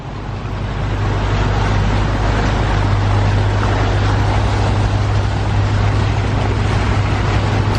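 Boat engine running loud and continuous with a steady low drone and broad rushing noise, the level holding even with no clear rise in pitch.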